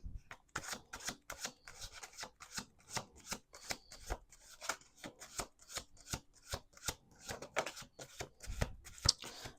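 Tarot cards being shuffled in quick repeated riffles, crisp papery flicks in bursts, close up and fairly quiet, with no voices.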